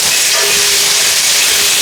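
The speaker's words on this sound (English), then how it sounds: "I'm gonna add my garlic and my shallot. Okay, turn my flame back on. Again, cast iron holds a lot of heat" Garlic and shallot sizzling in a hot cast iron pan, a loud close steady hiss with no pauses.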